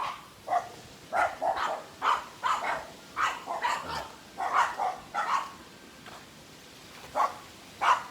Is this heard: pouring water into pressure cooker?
no